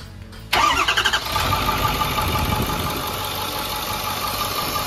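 A car engine cranks and catches at once with a few rough pulses, then runs loud and steady at idle during a check for leaking injectors.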